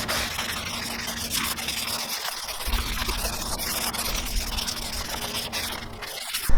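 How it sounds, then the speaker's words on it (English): Hand sanding old clear coat off a hazy, yellowed car headlight with light horizontal strokes: a continuous close, gritty rubbing hiss with a faint wet edge, steady throughout with no talking. "and then start sanding away"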